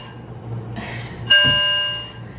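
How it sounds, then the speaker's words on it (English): A false fire alarm sounds with a sharp onset, its steady piercing electronic tone ringing for about a second and then fading slowly over indoor background hum. "we've had so many false alarms that these days they don't shock me"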